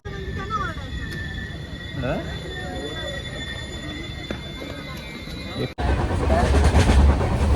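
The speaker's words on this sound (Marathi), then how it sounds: "आता ट्रेन करंजाडी आली" A Konkan line train from Mumbai rumbles along with squealing wheels and rattling carriages, arriving at Chiplun station, then the noise jumps louder and rougher near the end.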